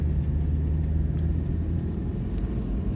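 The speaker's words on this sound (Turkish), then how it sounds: "Şu an üçüncü viteste tırmanıyor." A Hyundai Accent Era 1.5 CRDi diesel climbs a ramp in third gear, giving a steady, loud low engine drone and road rumble from inside the car, with no voices over it.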